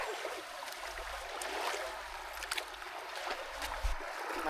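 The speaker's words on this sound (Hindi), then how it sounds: "पानी का फ्लो काफ़ी ज़्यादा है" Fast-flowing river water rushes around a boat, a steady, fairly faint wash of splashing and gurgling with occasional louder slaps against the hull.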